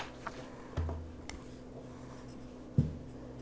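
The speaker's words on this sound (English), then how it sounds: "Write down a math problem on this piece of paper." A pen or pencil scratches faintly on a sheet of paper while a math problem is written out, with a few soft taps and rustles over a low steady room hum.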